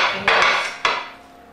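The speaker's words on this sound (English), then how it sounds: "if you have a flattening tool, like a slice, you just press it into the pan" A metal slice presses spinach bread down into a baking pan, giving two sharp clunks of utensil against the pan and a softer scraping rustle that fades between them.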